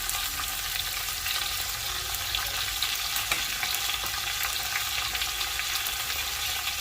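Stuffed okra and potatoes sizzle steadily, continuously frying in a pan, with occasional soft stirring scrapes and no talking.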